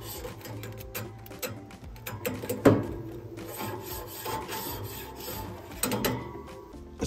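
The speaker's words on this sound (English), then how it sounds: "the grill floss does an excellent job of getting individual grill grates clean" A grill floss brush scrubs individual barbecue grill grates in a steady run of rasping, scraping strokes, close and moderately loud, with a sharper knock near the middle.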